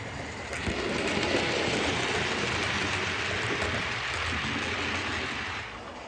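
A model railway train runs steadily along a busy branch-line layout toward its home track in the fiddle yard, giving a continuous close rolling rumble with a fine rattling hiss that stays even and fades slightly at the end.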